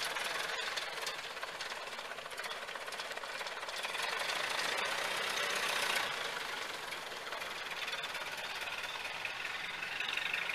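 An old car engine with a new piston in cylinder three and an oil leak idles with a continuous rapid rattling knock. It is steady and close throughout, with no talk.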